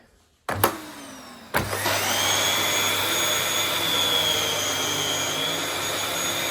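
A powerful vacuum cleaner power head switches on and runs on carpet, starting with two sharp clicks and a rising motor, then settling into a loud, steady high-pitched whine and rushing suction drone.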